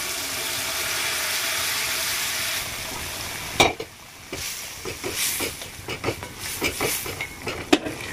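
Half-boiled chana dal tipped into an oil-released cauliflower masala sets off a steady frying hiss, then gives way to a series of sharper scraping stirs and sizzle bursts in the second half.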